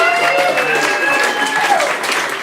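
A comedy roast battle audience claps and cheers in a steady wash of applause, loud and dense throughout, with voices mixed into the crowd noise.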